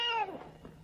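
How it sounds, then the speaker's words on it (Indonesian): A single cat meows once, a short, fairly close falling cry that fades quickly into quiet room noise. "Wah, kucing sialan, brengsek."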